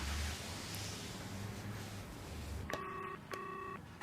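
A telephone being dialed, two short bursts of layered dialing tones in quick succession following a stretch of low hum and room noise, clear and close with no talk.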